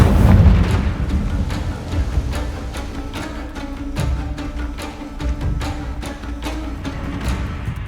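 Confringo blasting spell explosions in Hogwarts Legacy: a loud booming blast at the start, followed by repeated sharp cracks and rumbling impacts against dense battle noise.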